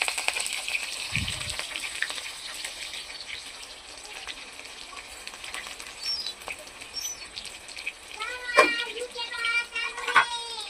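Onions and green chilies fry in a pan with a continuous crackling sizzle, joined by sharper spattering pops toward the end and occasional clinks of a utensil.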